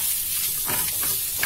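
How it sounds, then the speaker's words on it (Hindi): Amchur, chilli powder and other spices sizzle in a hot pan while a spoon stirs them through, a brief close crackle with a couple of scraping strokes. "इन सबको अच्छे से मिलाएंगे।"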